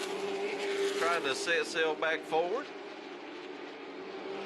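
Race cars at Hickory Motor Speedway, a steady engine drone from the track under a commentator's voice, with a brief rise as cars come across the vantage point.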